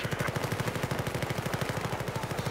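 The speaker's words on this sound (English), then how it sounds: "Guess that means it's time to actually use my gun." Rapid automatic gunfire in the video game Battlefield 4, a steady close burst of evenly spaced shots running throughout.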